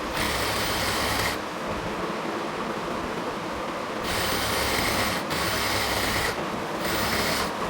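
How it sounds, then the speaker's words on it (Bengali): A sewing machine stitching a border on a salwar, running in bursts of rapid, buzzing mechanical chatter, close and loud, with brief pauses between runs. "পুরোটাকে এভাবে আস্তে আস্তে ধরে ধরে আমরা সেলাই করে নিচ্ছি।"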